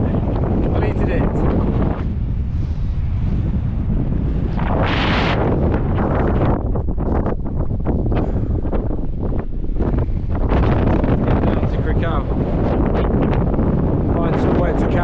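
Strong wind roars across an open hillside on a wild camping hike along the Beacons Way, a loud, constant buffeting rush on the microphone that never lets up, with a few words spoken briefly over it.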